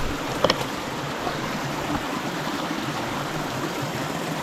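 A creek flowing steadily outdoors near an abandoned gold mine, a continuous broadband rush of water with a couple of brief knocks near the start.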